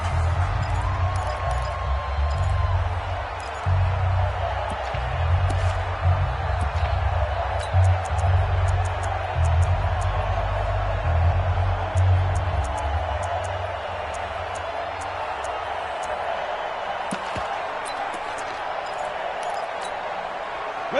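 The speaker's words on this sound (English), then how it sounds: "The crowd here in the Dome making things difficult." Steady, loud stadium crowd roar in a PS4 football game set in the New Orleans Dome, a continuous rumbling wash that eases slightly toward the end, with commentary voices talking over it.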